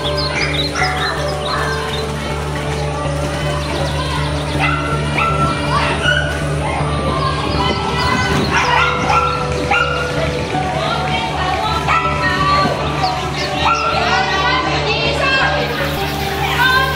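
Several dogs bark and yip repeatedly at a park, sharp and fairly close, with children's voices and chatter in the background.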